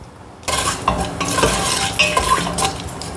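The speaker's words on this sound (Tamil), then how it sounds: "அது பொரியும் பாருங்கள் கிராம்பு" Whole spices, cloves, cinnamon and bay leaf, sizzle and crackle in hot oil in a pan, a steady close frying hiss with clinks and stirring scrapes, no voices.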